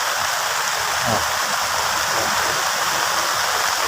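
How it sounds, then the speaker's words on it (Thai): Steady rain falls outdoors in a garden on Koh Samui, a constant broad wash of patter and splashing heard close and fairly loud throughout. "ฝนตกเลย ฝนตกอีกสักพักนะถึงจะหยุดครับ"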